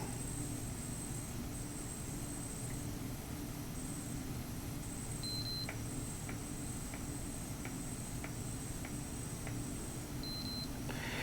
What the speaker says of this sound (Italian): l'orologio mi avvisa con un doppio bip e così ai multipli di 5 metri